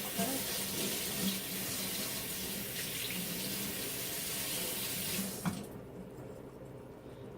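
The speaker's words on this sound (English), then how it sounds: "I'm going to grab a spoon, just rinse off the one I have real quick" Kitchen faucet runs steadily as a spoon is rinsed under it, a close, continuous splashing hiss that cuts off abruptly near the end, leaving quiet room tone.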